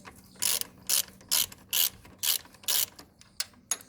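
A ratchet wrench works the rear suspension link bolts of a Royal Enfield Himalayan motorcycle, with about eight sharp, rhythmic bursts of ratcheting clicks separated by short pauses, close and loud with no speech.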